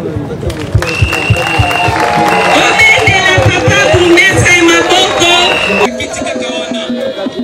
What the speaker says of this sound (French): demander à notre population de lui produire de très fortes acclamations